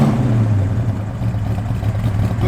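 A 1973 Plymouth Duster with about 5,000 miles sits running, its engine giving a steady, loud low rumble with a slight swell, close by and with no voices.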